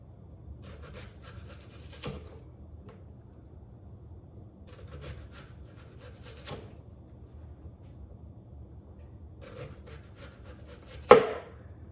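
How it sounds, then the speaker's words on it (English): Onion being thin-sliced with a sharp Santoku knife on a board: quiet groups of rapid soft cuts come in bursts separated by pauses, each ending with a firmer knock, and a louder thud closes it. "This knife will give a nice precise thin slice"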